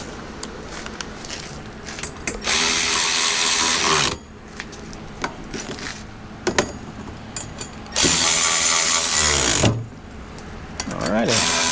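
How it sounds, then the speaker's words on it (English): A speed wrench ratchets in quick bursts, two long loud runs of rapid clicking, around the third and ninth seconds, between quieter handling sounds and brief shorter ratchet spins, close by. "Grab the speedy wrench here."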